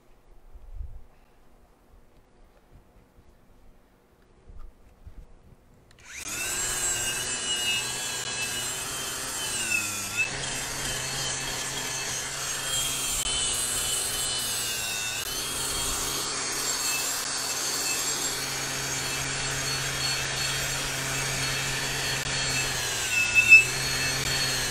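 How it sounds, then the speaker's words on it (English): Wire wheel brushing slag off a stick weld in the 5G position starts up after a quiet few seconds, then grinds on steadily, loud and close, with a harsh whirring hiss and small dips in pressure. "we'll do the wire wheel again"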